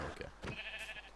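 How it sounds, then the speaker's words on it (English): Sheep bleating in a Minecraft-style video game, two short nasal bleats heard close and fairly loud over a steady game background hum. "I just killed another sheep"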